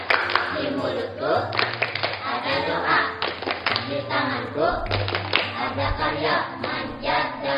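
A group of schoolchildren at an elementary school in Banjar does a rhythmic success clap, with patterned bursts of hand claps and thumps mixed with loud chanting voices. Background music and heavy talking run underneath throughout.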